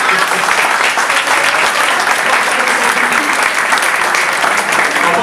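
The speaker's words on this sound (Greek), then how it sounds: "Ένα χειροκρότημα." Audience applause at a gaming event party, a steady dense clapping from a crowd that fills the whole stretch at a loud, even level without pause.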